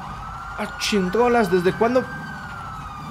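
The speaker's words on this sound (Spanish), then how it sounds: "¿Por qué viene un oficial en ambulancia, güey?" An ambulance siren in GTA 5, wailing in a few rising and falling sweeps at moderate distance under excited talk, over a steady engine-like hum.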